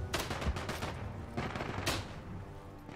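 Rapid bursts of gunfire crackle in the World War I shooter game Isonzo, several sharp shots and short volleys stacking up loud and close, with no talk over them.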